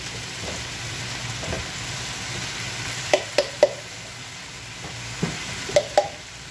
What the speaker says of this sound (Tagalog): sangkot ulit natin siya para ma-absorb yung lasa ng chicken sa mushroom